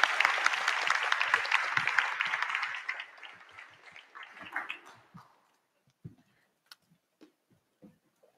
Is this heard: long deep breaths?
no